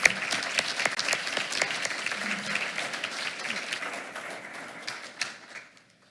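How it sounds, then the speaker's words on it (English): Applause from a school board meeting audience honoring a retiring teacher, dense steady clapping that holds for about five seconds, swells briefly near the end, then fades out. "Let's give him one more round of applause."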